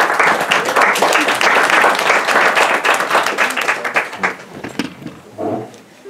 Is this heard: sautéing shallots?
no